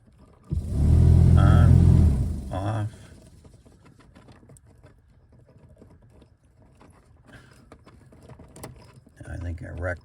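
The blower fan in a 1976 Mercury Monarch roars briefly with a loud, low droning rush near the start, then cuts off, leaving faint cabin noises and some talk.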